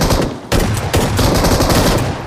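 Dense automatic gunfire in the mobile battle royale game BGMI, rapid continuous bursts filling the whole stretch, loud and without pauses.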